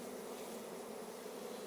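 A mass of honey bees buzzes in a dense, steady drone as they are shaken and dumped from a hive frame during summer beekeeping, close and continuous with no pauses.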